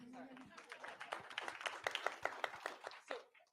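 An audience at a political campaign event bursts into applause, a quick spreading patter of clapping hands that swells and fades over a few seconds, with a voice speaking over it.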